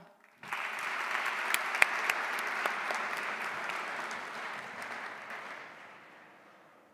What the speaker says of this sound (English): So please give a warm round of applause for Fiona Young.